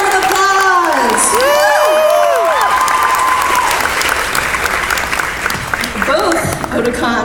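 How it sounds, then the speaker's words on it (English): Loud applause and cheering from a convention panel audience at Otakon 2016, with whoops and shouts over steady clapping while a voice speaks over the crowd near the start. "Give him a big round of applause."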